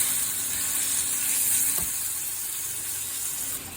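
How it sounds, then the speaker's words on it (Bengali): Dried tengra fish fry in oil in a pan, a close, continuous crackling sizzle with a bright hiss that stays steady for a few seconds. "শুটকিগুলো একটু তেলে ভেজে নেব ভালো করে"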